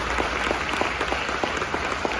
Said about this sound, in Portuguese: Você pode aplaudir mais uma vez Jesus por isso?